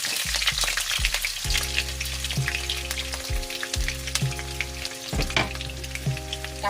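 White onion sautéing in a pan as the first step of a sauce for blue marlin fish, a steady close sizzle with stirring and tonal hum running underneath, no voices.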